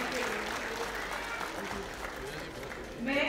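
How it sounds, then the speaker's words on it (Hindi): Sustained applause from an audience greets the wife of the governor at a cultural evening of a spring festival at Raj Bhavan, Dehradun, a dense steady clatter of clapping that swells slightly at the end. "एक बार जोड़ना तालियां ऑनरेबल लेडी गवर्नर जी के लिए।"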